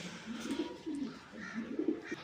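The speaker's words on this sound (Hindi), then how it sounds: "ये मेरा कबूतर है का पेयर है। इसे हम कहते हैं पॉटर कबूतर या बैलून कबूतर।" Close, soft cooing from a pair of pouter (balloon) pigeons, low rolling coos repeating in a steady rhythm over about two seconds with no voices.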